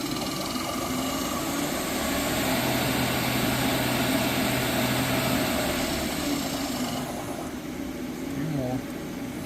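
A Milltronics lathe takes a light facing cut, producing a loud, steady machine drone with a low hum and a brief cutting tone before the sound drops off near the end, with someone talking briefly.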